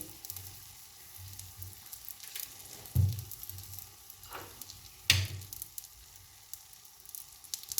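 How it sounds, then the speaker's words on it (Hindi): Rice fries in a little oil with a soft, steady sizzle, interrupted by a few sharp clatters of a spoon or pan and some quieter scraping. "थोड़ा सा ऑयल ले लेंगे हम और इनको थोड़ा थोड़ा सा फ्राई कर करके अपने चावलों को तो उसमें मिलाते जाएंगे"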